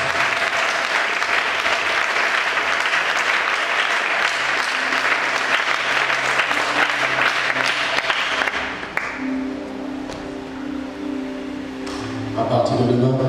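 Church congregation applauding and cheering in praise during a worship service, a dense sustained wash of clapping and crowd voices that eases slightly near the end.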